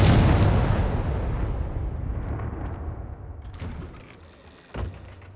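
A Confringo fire spell explodes in the video game Hogwarts Legacy, a heavy booming blast that rumbles and slowly decays, followed by a smaller thud near the end.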